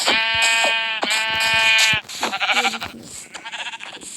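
Sheep in Minecraft bleat in repeated loud, wavering calls, several in quick succession over the first two seconds, followed by choppier game sounds and softer bleats.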